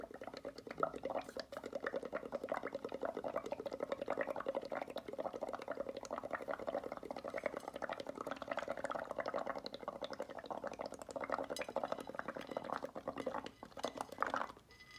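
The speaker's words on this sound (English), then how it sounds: "I am going to start bubbling very slowly" Pottery glaze being bubbled slowly to build a honeycomb bubble texture, giving a steady, close, continuous gurgling and bubbling with soft liquid pops throughout, no talking.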